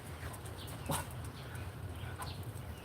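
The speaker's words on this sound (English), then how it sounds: "That's the neighbor dog. That's not my dog." A neighbor's dog gives a few faint barks and whimpers from a short distance away. The sound is quiet and comes through a low background murmur.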